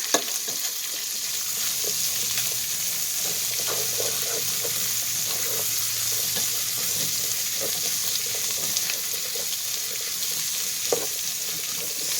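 Chopped onion sizzles steadily in hot bacon grease in a pot, a continuous close frying hiss with occasional soft stirring clicks and scrapes, no talking.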